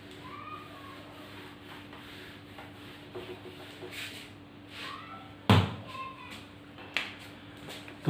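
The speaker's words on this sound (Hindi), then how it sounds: "तो ये मैं अभी रब कर रहा हूं आपका।" Writing is rubbed off a classroom board during a physics lecture, a soft, steady scrubbing under a constant hum, broken by a few sharp knocks and bumps near the end.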